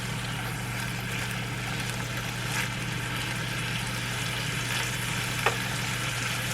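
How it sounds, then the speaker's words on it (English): Soy sauce, low-sodium, poured into an egg roll in a bowl mixture, which sizzles and fries steadily in the hot pan with a constant crackling hiss and an occasional faint stir. "I'm going to add in a 1/4 cup, or maybe just a little more, of the soy sauce"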